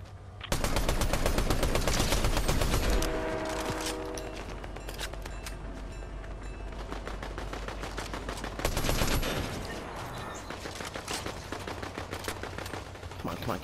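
Rapid automatic gunfire in the Fortnite video game, dense and loud, with bursts of shots firing almost continuously throughout, a brief lull in the middle and a renewed burst near the end.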